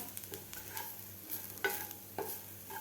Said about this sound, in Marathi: एक ते दीड मिनिट आपल्याला हे मसाला परतून घ्यायचा आहे